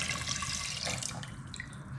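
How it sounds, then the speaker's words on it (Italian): About a litre of water is poured from a tap into a large pot holding whole peaches, a steady close splashing and trickling that softens toward the end. "Poi sulle pesche verso 1 litro d'acqua."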